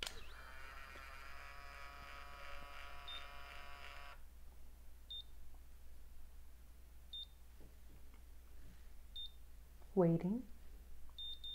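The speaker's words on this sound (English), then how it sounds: "once I close it, it's supposed to suck the hair up, and then you hear that beeping" Conair Infiniti Pro Curl Secret hair curler gives a few short, faint high beeps spaced a couple of seconds apart, after an early electronic tone and under a low steady hum, with a person speaking briefly.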